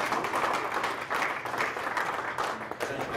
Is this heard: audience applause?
yes